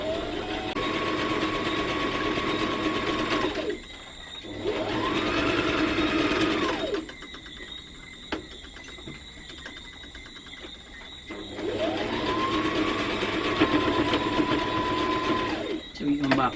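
A sewing machine stitches fabric for a simple wrap dress in two long bursts of steady, whirring, rapid stitching, separated by a pause filled with someone talking nearby.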